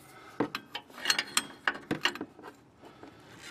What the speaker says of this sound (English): my intent is to twist the top half of this shock to loosen that nut on top, or remove it actually